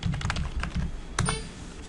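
Quick typing on a computer keyboard, a burst of close, crisp key clicks in an uneven rhythm, a short pause, then a few more taps, with no voices.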